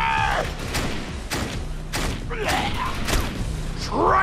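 Grenade blasts from the Defiance video game hit as several sharp, booming thuds spaced about half a second apart, mixed with whooshing sweeps and game effects at moderate volume.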